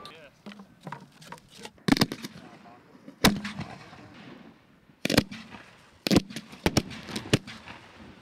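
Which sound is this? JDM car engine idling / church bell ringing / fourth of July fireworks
fourth of July fireworks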